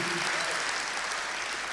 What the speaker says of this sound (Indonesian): tepuk tangan lebih meriah lagi.